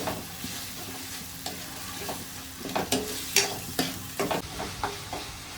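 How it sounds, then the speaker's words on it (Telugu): Mint and ginger paste frying in oil in a pan, a constant close sizzle broken by irregular scraping and clacking stirring strokes, no talking. "ఆయిల్లో ఫ్రై అయితే పుదీనా అనేది చాలా బాగుంటుందండి"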